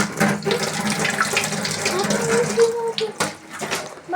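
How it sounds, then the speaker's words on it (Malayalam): Tap water running steadily into a sink while someone washes their face, splashing close by with brief pauses. "ഞാൻ ഇപ്പോൾ നമുക്കൊന്ന് മുഖം കഴുകി വാഷ് ചെയ്യാം"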